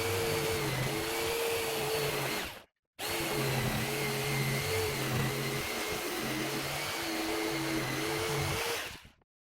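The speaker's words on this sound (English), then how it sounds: "After cutting the holes out" Power tool cutting holes in an arcade console panel, a loud steady whine running nearly unbroken apart from one short pause.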